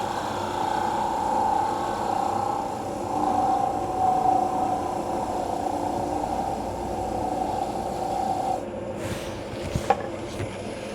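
A wood lathe makes a parting cut on a turned pencil holder, the tool held against the spinning wood in a steady whining scrape that stops near the end, followed by a couple of light knocks.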